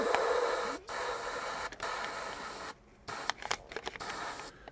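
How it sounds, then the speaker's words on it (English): Airbrush spraying overspray onto a model boxcar: a steady close hiss broken by several short pauses and quick sputtering bursts near the end. "I'm just going to do a little bit of overspray just to tone down some of this here"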